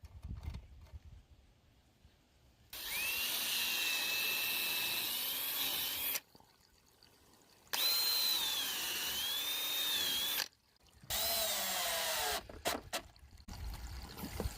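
A power drill drives 2-inch screws through 3/4-inch repurposed barn wood boards into an herb garden planter, in three long sustained whirring bursts separated by quiet pauses, close and loud, with no talking.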